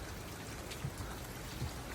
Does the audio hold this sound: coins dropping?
no